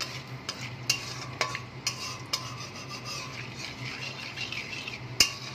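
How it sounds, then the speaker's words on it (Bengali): Soft sizzling in a pan with several sharp clicks and pops scattered throughout, whole garam masala spices crackling in hot oil, fairly quiet and close. "আমি গোটা গরম মশলা এখানে ফোড়ন দিয়ে দেবো।"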